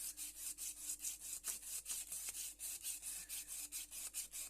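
A knife blade is drawn back and forth across a 180-grit sandpaper block, a close rhythmic rasping of about twenty even strokes in quick succession with no talk over it.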